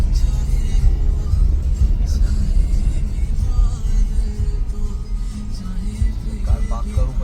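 Car driving slowly into a mall parking area, a steady close engine rumble and road noise throughout, with faint voices in the background.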